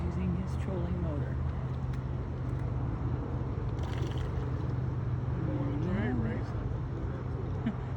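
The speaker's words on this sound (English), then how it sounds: "right now he's using his trolling motor." A pontoon boat's trolling motor runs with a steady low hum alongside water and wind noise, while people talk over it throughout.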